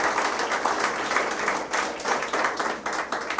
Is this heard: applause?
yes